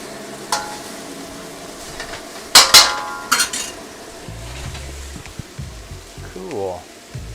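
Tomato beef chow mein cooks in a wok over a quiet background sizzle, broken by a few loud clanks and scrapes of a metal utensil against the wok, with brief voice-like sounds near the end.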